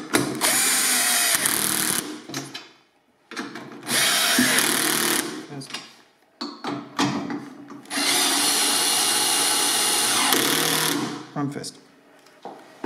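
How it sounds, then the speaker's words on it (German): Cordless screwdriver driving screws to fasten a topcase mount on an HAWK or FALCON electric scooter, several long loud whirring bursts separated by pauses and short clicks, close to the microphone. "kann man den Akkuschrauber festziehen"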